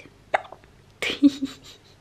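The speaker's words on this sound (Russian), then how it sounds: "Кто икает?" A person hiccups indoors at home: one short, sharp hiccup, then a second louder hiccup with a brief voiced tail, close and alone without talk.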